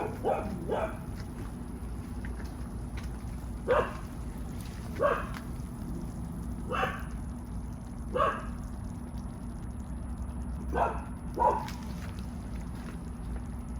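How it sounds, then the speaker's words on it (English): Several dogs bark from a neighboring yard in short, spaced bursts, some paired, at moderate distance over a steady low rumble of an outdoor open fire. "My neighbor's dogs has decided to join me"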